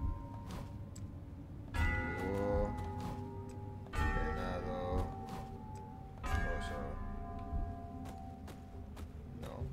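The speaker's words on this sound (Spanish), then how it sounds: "La campana." A bell rings in the Ruined King video game, three separate resonant strikes spaced a couple of seconds apart, each ringing out and decaying over a low murmuring background with light ticking.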